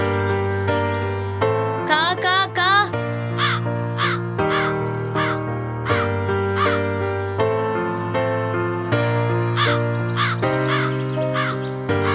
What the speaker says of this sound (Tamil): காக்கா இப்படி கத்துது.